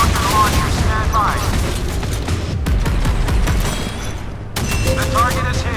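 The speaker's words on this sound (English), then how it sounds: "All rocket launchers stand by." Rocket launchers fire from a naval warship in a modern naval combat game, a dense rolling barrage of blasts and booms with faint voices under the noise.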